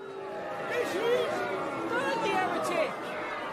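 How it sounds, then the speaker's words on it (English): Indistinct babble of a summer London crowd gathered at Smithfield, steady overlapping voices close around at moderate level with no single speaker standing out. "So I stood at Smithfield amidst the babble and stink of a London crowd in summer"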